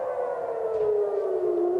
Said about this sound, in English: air raid sirens are sounding across Tel Aviv amid an incoming Iranian ballistic missile attack